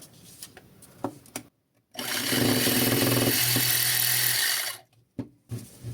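A Continental D30165 12-volt air compressor starts up and runs for about two and a half seconds with a loud, buzzing rattle, then cuts off, surrounded by sparse clicks and handling knocks.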